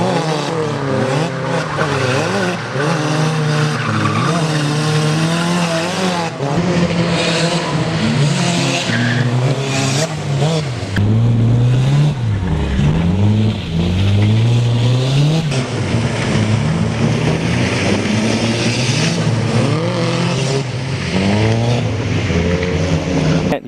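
A Nissan S13 with an SR20DET engine drifting, the engine revving hard and rising and falling in pitch while the tyres squeal and skid continuously, loud and close for the whole stretch, with no talking.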